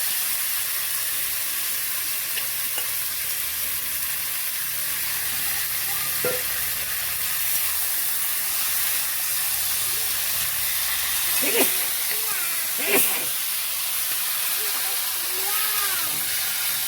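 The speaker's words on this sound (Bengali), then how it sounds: "এটা এবার আমি ভালো করে কষাবো।" Chicken pieces frying in a pan for a thin chicken curry, a steady sizzling hiss throughout with occasional scraping stirs of a spatula; a voice is faintly heard in the background.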